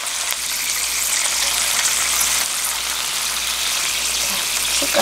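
Battered angelica (dangwi) tempura deep-frying in hot oil in an electric pan, a steady dense sizzle and crackle that holds at an even level throughout without pause.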